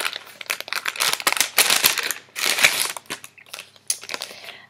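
Small paper envelope holding a Christmas-jumper sticker being handled and torn open, giving close, loud bursts of crinkling and tearing paper that come in several uneven rustling waves, with no voices.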